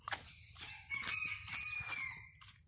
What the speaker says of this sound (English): There is some chicken right there.